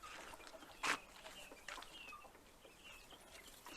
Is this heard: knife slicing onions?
no